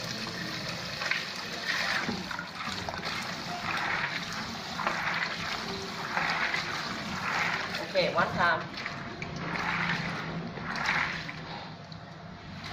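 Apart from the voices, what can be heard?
water rinsing soaked soybeans in a bowl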